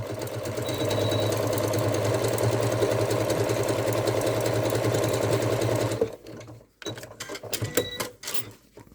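A sewing machine runs steadily through a dense satin stitch for appliqué, a loud continuous whirring hum for about six seconds before stopping, followed by a few scattered clicks and handling noises.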